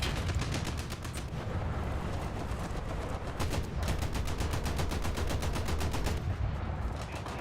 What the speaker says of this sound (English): We're basically just shooting at our own guys now.